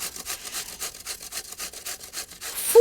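Zucchini rubbed against a kitchen grater in quick, steady rasping strokes, about five per second, close and moderately loud with no talking.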